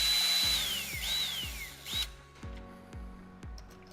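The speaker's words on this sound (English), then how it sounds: "once you get them started, just tighten them up." A power tool drives screws into a lock, with a brief whirring rise and fall of the motor followed by a series of short ratcheting bursts and clicks, close and moderately loud.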